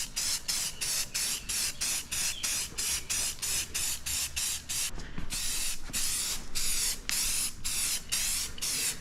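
Krylon paint-and-primer spray paint is sprayed onto small brake clips for a 1981 Dodge D150, in a steady run of about fifteen short, loud hissing bursts separated by brief pauses, close to the can.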